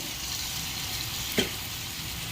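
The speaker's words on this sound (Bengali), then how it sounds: "সবগুলো একসঙ্গে আমি ভেজে নেব।" Potato snacks deep-fry in hot oil in a large wok, making a steady, even sizzle with one brief metallic clink partway through.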